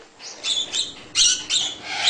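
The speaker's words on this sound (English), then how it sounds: "I love all the little heathen birds." Several pet birds let out high, bright chirping calls in short clustered bursts, close by and fairly loud.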